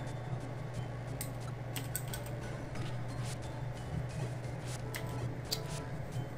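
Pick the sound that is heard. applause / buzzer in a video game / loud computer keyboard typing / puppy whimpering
loud computer keyboard typing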